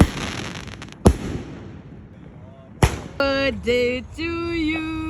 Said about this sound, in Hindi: पंचवटी राजा पार्क का पटाखे फूट रहे हैं